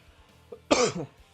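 A single short, sharp cough rings out in an otherwise quiet moment, preceded by a faint small throat noise.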